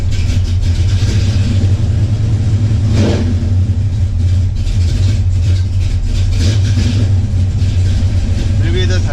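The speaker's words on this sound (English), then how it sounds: "This is what a 396 cubic inch big block Chevy sounds like, with a nice cam and aluminum heads, shorty headers, and 3-inch exhaust out the back with an H-pipe" A 1966 Chevelle SS with a 396 cubic inch big block Chevy, nice cam, aluminum heads, shorty headers and 3-inch exhaust with an H-pipe rumbles loud and close, idling and revving throughout while someone talks over it.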